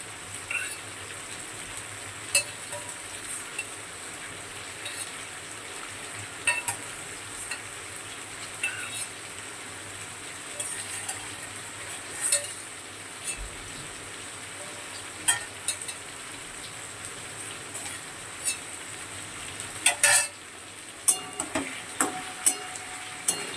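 Soybean chunks and chicken curry are sautéed in a pan, producing a continuous close sizzle with frequent scraping stir strokes and crackling pops, a louder burst of frying near the end, and no voices.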